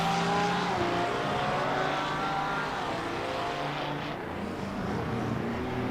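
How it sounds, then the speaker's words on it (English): GT3 race cars in a sim racing game at Laguna Seca roar continuously, a dense steady engine drone with shifting pitch that stays loud throughout, with no talking. "Mr. Bird is going to try and chase down Merche."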